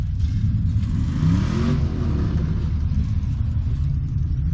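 At a demolition derby, a Subaru Impreza derby car's engine rumbles and revs loudly up close, swelling briefly midway before settling back to a steady throaty drone.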